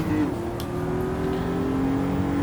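In Gran Turismo 7, a 3.7 liter V6 car engine holds a steady, loud drone with slight pitch changes as it revs.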